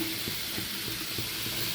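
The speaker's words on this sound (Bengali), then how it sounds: "আমি এটাকেও ঢেকে রেখে ভালো করে ভাজবো" Vegetables sizzle in a pan with coriander and cumin powder, a steady hiss punctuated by soft rhythmic scraping as they are stirred.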